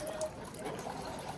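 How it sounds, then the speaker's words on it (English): Water poured over hands for washing at an old temple in Nara, Japan, a soft close trickle and splatter that runs steadily for a moment without speech. "Let's get a little water here"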